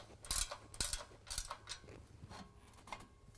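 A ratchet snugs an exhaust clamp bolt on a 2022 Chevy Silverado 1500 fitted with a Corsa Sport Series exhaust, a few quick, faint clicking bursts heard close by.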